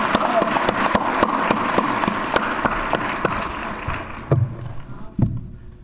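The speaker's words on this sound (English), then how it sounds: "Let's give that choir another wonderful" Audience applauding for a choir at a morning civic ceremony, a steady wash of clapping with sharp individual claps that thins out and fades near the end.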